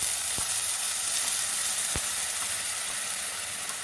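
Almond and pistachio paste sizzling in hot ghee for carrot rasmalai, a steady close broadband fizz with a few faint clicks, no talking.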